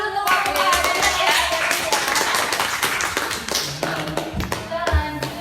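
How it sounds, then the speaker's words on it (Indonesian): A classroom group of students breaks into brisk, dense clapping during a microteaching practice session, loud and close, holding steady for several seconds before trailing off with a few scattered claps and voices. "Tepuk tangan dulu untuk Bapak."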